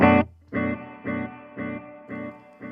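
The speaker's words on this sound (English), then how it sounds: "use the echo verb engine. This is a combination of echo and reverb" An echo-verb setting on a Ventris Dual Reverb pedal turns one sharp tone into about six evenly spaced, washy repeats, each quieter than the last, with no voices.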